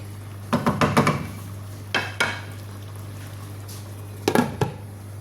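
Chicken stew for an Indian-style dish cooking in a covered pot, with a steady low hum under scattered clinks and scrapes of a lid and utensil against the pot in short bursts.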